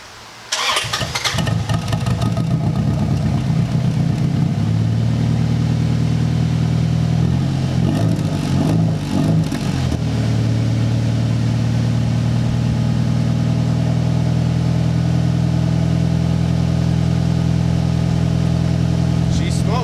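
A Honda engine with stuck oil control rings cranks briefly, catches, and settles into a loud, steady idle with a rough stumble partway through, continuing close by.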